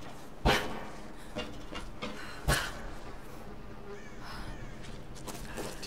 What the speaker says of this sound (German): Und hier könnte ich einen Rabe jagen